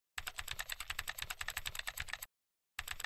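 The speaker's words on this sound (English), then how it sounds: "We simply click the corresponding icon and start typing." Fingers type on a computer keyboard in rapid, steady keystrokes that break off briefly before resuming, quiet and close with no voices.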